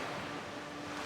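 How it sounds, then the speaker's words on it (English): Rising water in Wind Waker HD swells as a steady, soft rushing wash, a continuous surf-like roar with a faint low hum underneath, even and unbroken throughout. "Water's gonna start coming up in a second."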